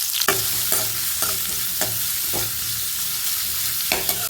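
Chopped onions frying in hot oil in a kadai: a steady loud sizzle with repeated scraping strokes of a spoon stirring at a regular pace, close up and without talk.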